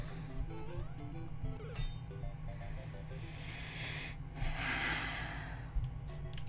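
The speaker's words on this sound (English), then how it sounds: "Breathing." Heavy, drawn-out breaths and sighs from a person playing the Unfair Mario game, close and fairly loud, over steady background game music, with a stronger rushing exhale near the middle.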